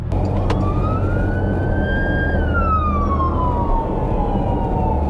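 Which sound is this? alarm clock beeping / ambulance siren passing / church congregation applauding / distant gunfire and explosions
ambulance siren passing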